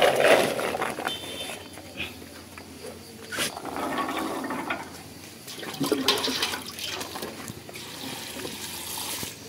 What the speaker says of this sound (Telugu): తర్వాత నీళ్లు పోసారు, అంతేనా?